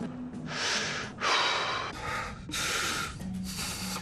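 A person takes several deep breaths, loud, close whooshing inhales and exhales coming in slow waves with brief pauses between them.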